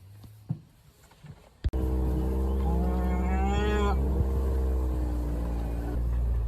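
A cow moos loudly and close by on a cattle ranch, one long drawn-out low call over a steady engine rumble, after a couple of brief knocks.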